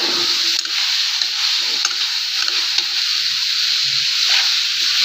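Spicy cowpea and potato curry sautéing with Maggi masala in a pan, a steady loud sizzle running throughout with small scraping stirs and faint background sounds.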